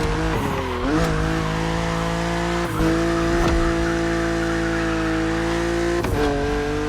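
A BMW Z4 E89 coupe cabriolet drives in the racing game The Crew Motorfest, its engine holding a steady buzzing drone with brief dips and bursts at gear changes, and no talking.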